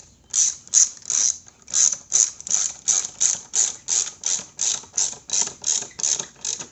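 A ratcheting tool tightens the plastic air filter housing clamp on a 2007 Toyota Highlander Hybrid, giving a steady run of about sixteen sharp, evenly spaced clicks, close and loud, with almost no talk.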